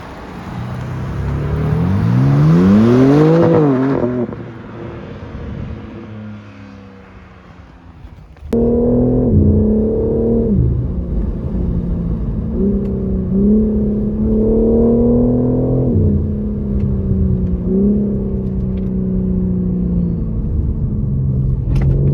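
A 510 hp BMW M4 Competition engine rises in pitch as it revs and accelerates, then drops back to a steady, loud rumble that swells in short surges.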